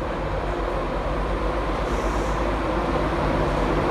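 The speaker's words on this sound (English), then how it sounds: "This will be our train back to Newark." LNER train arriving at a station, a loud, continuous rumble of wheels and engine close by, steady for a few seconds with no talk over it.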